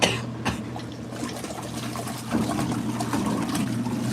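An LG ThinQ washer takes in water as a soft, steady trickling and filling sound with a low hum underneath. A brief thump comes near the start.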